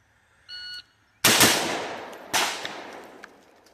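Rifle fire at an outdoor Michigan police qualification range: two loud, sharp shots about a second apart at close range, each ringing out into a long decaying echo, preceded by a short electronic beep tone.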